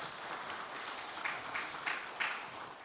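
A church congregation at a New Year revival service claps steadily, a fairly quiet, diffuse patter of many hands with a few louder swells as the guest preacher comes forward.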